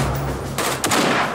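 Gunfire in Garry's Mod: a quick burst of several loud, sharp shots close by, cracking one after another in rapid succession with no talking.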